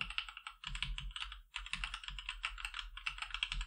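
Keys clack on a high-profile mechanical keyboard during a quick click test, bursts of rapid typing separated by brief pauses, close and crisp, with no voices.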